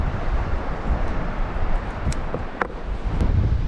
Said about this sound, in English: I was just talking about that wind dying down, but it seems to have swung around a bit and picked up again